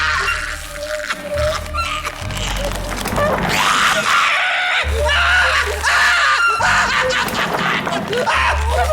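A person screams in a dark fantasy setting with a religious torture chamber, a long loud anguished scream rising and falling over dense sound effects and low rumbling tones, with no talk over it.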